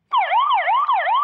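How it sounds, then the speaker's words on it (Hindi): A Dahua video door phone's emergency alarm siren sounds as a loud electronic wail that rises and falls in quick, steady cycles, continuous and alone with no voices. "ये मेरा अलार्म स्टार्ट हो चुका है।"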